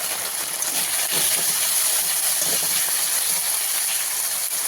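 Spice paste of turmeric, salt, cumin and coriander powder fries in oil for fish curry, giving a loud, continuous steamy hiss with a faint bubbling texture throughout.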